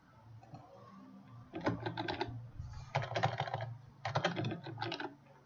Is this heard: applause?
no